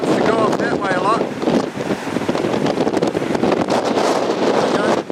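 Strong wind buffeting a microphone outdoors during a Steadicam Volt stabilizer test, a loud continuous rumbling roar with gusts, while someone talks over it.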